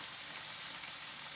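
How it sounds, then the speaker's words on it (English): Steady, even sizzling of halloumi cheese searing in a hot pan, a constant crackling hiss with no talking. "once you really get that sizzle noise"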